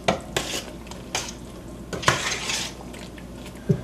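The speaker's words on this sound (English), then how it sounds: "And we just stir it all up." A spoon stirring a stew mixture in a pot, with a few scraping, clinking strokes against the pot at an uneven rhythm, close and fairly quiet, with no talking.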